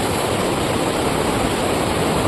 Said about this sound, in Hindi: ये है नदी का बहाव